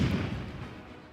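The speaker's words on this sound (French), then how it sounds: "Les soldats tirèrent au canon." Cannon fire for a celebration in a fairy tale setting, heard as one deep booming thud that rolls off into a fading low rumble over about a second.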